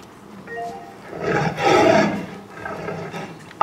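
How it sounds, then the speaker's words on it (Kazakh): A lion roars in a single swelling call that builds to a loud peak mid-clip and then fades, part of a wild-animal sound sequence for young children, with no talk over it. "Арыстан."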